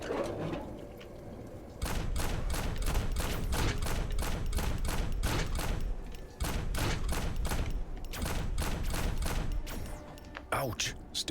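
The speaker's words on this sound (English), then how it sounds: "There's nothing more satisfying than popping a headshot in this game" Rapid, evenly spaced gunshots fire in long bursts from the POSTAL: Brain Damaged video game during a headshot-heavy fight in a prison, loud and steady for several seconds with brief gaps, ending in a few scattered impacts.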